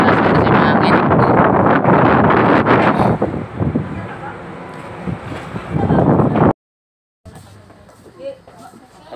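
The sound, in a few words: wind on a fast boat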